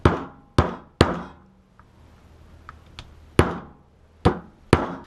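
A hammer drives a wheel bearing dust seal into the hub of a Honda CB350: about six sharp, close metallic knocks in irregular pairs, with a quiet gap and a few faint taps between them.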